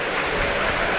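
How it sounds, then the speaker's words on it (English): A crowd at an FA Cup football match between Sheffield United and Mansfield Town applauds as substitutes warm up on the touchline, producing a dense, steady wash of clapping that fills the whole moment. "Replacements of both sides just going for a little warm-up on the touchline, hence the applause down below us"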